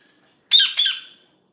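A grey parrot lets out one close, loud, harsh two-part squawk in an otherwise quiet room.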